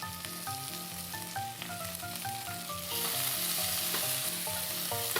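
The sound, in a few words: bulgogi stir-frying in a pan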